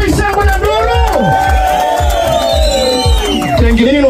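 Rally crowd cheering and ululating, several high trilling voices sweeping up and down over a thick, loud babble of shouts that carries on without a break.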